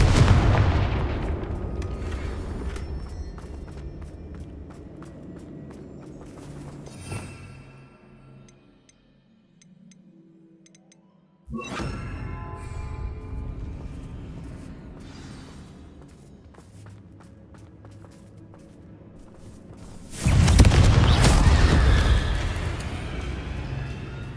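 Explosive Confringo spell blasts from the Hogwarts Legacy video game, heavy booming impacts with a rumbling tail, a near-silent lull, then another loud crashing burst building to a big explosion at the end.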